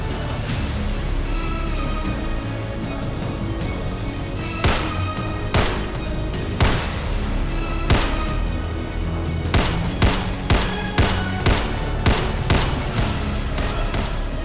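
Gunfire sound effects in a short film, a string of sharp shots ringing out over a loud, steady music bed, sparse at first and then coming in quicker succession later on.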